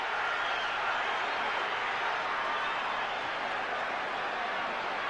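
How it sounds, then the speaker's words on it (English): A boxing arena crowd roars in a constant, dense wash of cheering and clapping during the Tyson versus Holyfield fight, heard from a distance with no distinct voices. "Listen to the crowd."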